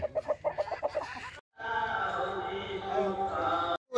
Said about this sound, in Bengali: এরম ভাবে মুরগিকে ডাকছে।